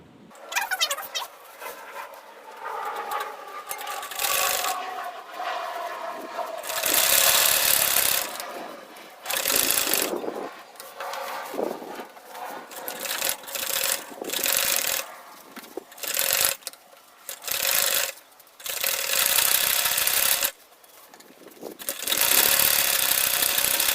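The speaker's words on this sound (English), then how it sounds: "and I'll sew the sides." A sewing machine stitching the sides of an insulated lunch bag, running in repeated bursts of steady mechanical whirring with brief pauses between runs.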